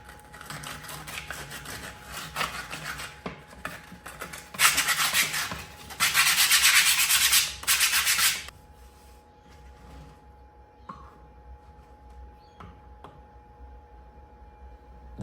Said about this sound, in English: Just a little bit of rough sanding with 120 grit to take off any of the rough edges